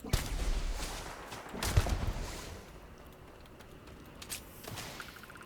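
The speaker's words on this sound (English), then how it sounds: "That's another turret, it sounds like." Turret gunfire in a video game: a couple of loud, sharp bursts early on, then fainter distant shots and clatter as things fade toward quieter ambience.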